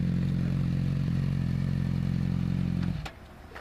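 A sport bike's engine idles with a steady low rumble, then abruptly stalls and cuts out near the end, leaving faint clatter and quiet.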